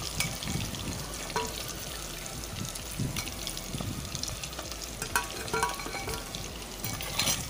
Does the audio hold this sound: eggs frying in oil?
yes